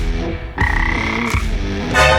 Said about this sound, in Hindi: तुम्हारे मुंह से मेंढक की आवाज क्यों आ रही है?